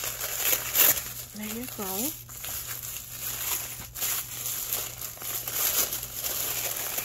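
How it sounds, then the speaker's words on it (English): Taped tissue paper from a package is torn and crumpled up close, with crisp crinkling bursts scattered through the clip while someone talks. "And I might just tear this up because it has a whole bunch of tape."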